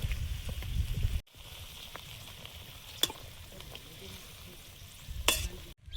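Koi fish, lata fish and eggplant frying with turmeric and cumin, a faint steady hiss of oil with occasional stirring scrapes and louder bursts of sizzle at the start and end.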